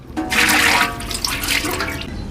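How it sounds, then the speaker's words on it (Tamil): Cooking oil poured into a pan for puliyodarai, a short close liquid glugging and splashing pour lasting a couple of seconds, loud and alone. "ஆயில் ஊற்றிக்கிடுவோம்"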